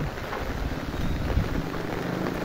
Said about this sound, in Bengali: প্রচণ্ড বৃষ্টি হচ্ছে আমাদের এলাকায়